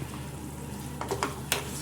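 Gongura leaves being stirred and smashed in a kadai, soft sizzling with a few light scraping clicks of the spoon against the pan, quiet and close.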